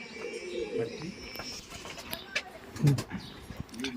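Green-eyed Punjabi flying pigeons coo in low bursts mixed with scattered chirps, one strong coo standing out near the end, while voices talk nearby.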